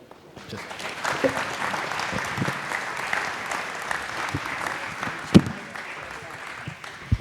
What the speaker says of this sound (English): Another round of applause for this.